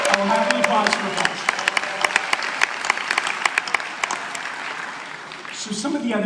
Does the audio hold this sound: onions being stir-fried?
no